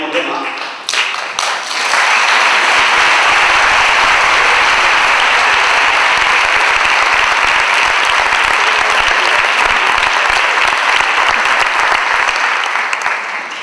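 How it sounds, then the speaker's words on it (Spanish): Loud, sustained applause from a crowd for dancers at a performance, steady clapping that fills the space for over ten seconds after a brief lead-in. "Yo pido otro aplauso para los bailadores"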